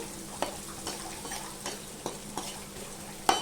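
Onions fry in a pan for fish curry, a steady soft sizzle under intermittent light scrapes and taps of a stirring spoon.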